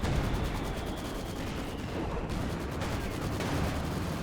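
Machine guns fire steadily in a Company of Heroes 2 battle, a continuous distant crackle of rapid gunfire layered with rumbling combat noise throughout.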